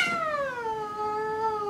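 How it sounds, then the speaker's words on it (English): A cat gives one long, clear meow with a falling pitch, close and loud, in an indoor setting with no talking over it. "Oh my god, my cat."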